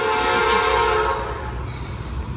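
A Norfolk Southern freight train rolls past at Cornelia, Georgia, its horn blaring loud and close over the steady rumble of railcars, the horn dropping away after about a second while the wheels keep grinding on.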